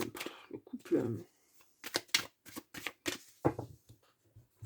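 Tarot cards shuffled in quick riffled bursts, several separate crisp rustling runs with short gaps between, close and fairly loud, with someone speaking between them.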